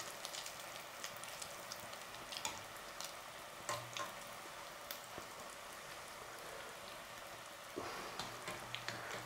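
Fataya pastries deep-frying in oil in a kitchen in Senegal give a steady, dense sizzle with scattered crackles and pops that stays even throughout, no voices over it.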